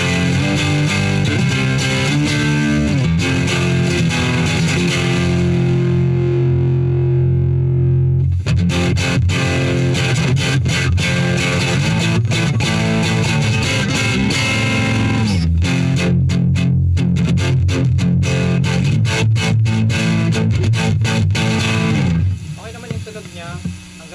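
Distorted electric guitar through a Kustom KG100HFX amp and 4x12 cabinet with the bass raised, loud chords and riffs ringing steadily for over twenty seconds with brief pauses, ending in a fading decay.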